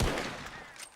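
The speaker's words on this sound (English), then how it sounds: "What are you shooting at?" A single loud gunshot in Red Dead Redemption 2, its heavy boom decaying over about a second with a faint echo tail.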